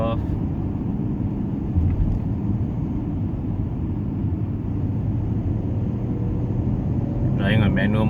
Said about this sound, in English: So right now I've got a clear stretch of road and driving on manual mode.